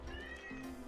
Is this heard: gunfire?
no